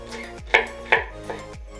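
A knife chops onions finely on a board, a few sharp separate strokes with clicks against the surface, close and fairly quiet, with no talk.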